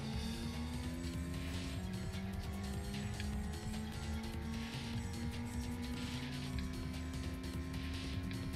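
Race cars in the racing video game Racing Lagoon, engines droning steadily with rising and falling pitch as they accelerate along a road track, continuous and fairly loud.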